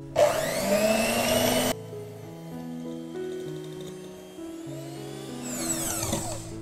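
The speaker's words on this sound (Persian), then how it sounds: "خب من اول شروع میکنم با سرعت پایین همزن یه چند ثانیه سفیده تخم مرغ رو میزنم تا باز بشه" An electric hand mixer whips egg whites at low speed, a steady whirring motor hum that shifts pitch in steps, with a harsher scraping burst at the start and again at the end, close by and with no talking.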